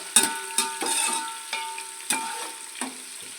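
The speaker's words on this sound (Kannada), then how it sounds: "ಗೋಲ್ಡನ್ ಕಲರ್ ಬರೋವರೆಗೂ ಈರುಳ್ಳಿನ ಚೆನ್ನಾಗಿ ಫ್ರೈ ಮಾಡ್ಕೋಬೇಕು" Chopped onions frying in oil for mutton pulao, stirred until golden: a close, steady sizzle broken by several sharp spatula scrapes and knocks against the pan at irregular intervals.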